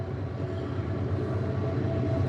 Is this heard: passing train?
yes